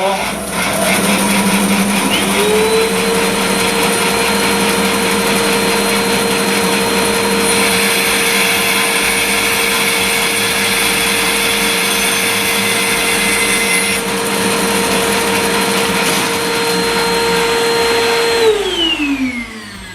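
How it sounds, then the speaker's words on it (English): A bandsaw with its mitre slide set at 45 degrees cuts a mitre in a piece of wood, a loud, steady whining motor drone that shifts pitch as the blade bites, then winds down at the end. "that can again easily be done on the bandsaw by setting the mitre slide at 45 degrees"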